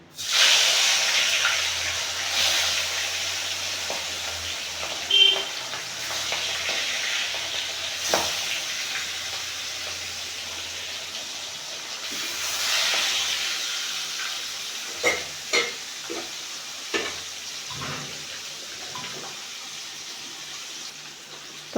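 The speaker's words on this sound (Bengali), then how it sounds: "তেল গরম হয়ে গেছে এখন আমি মাছগুলি দিয়ে দেব" Fresh fish fry in hot oil with a continuous hissing sizzle that swells and settles, broken by occasional sharp clinks and knocks of utensils against the pan.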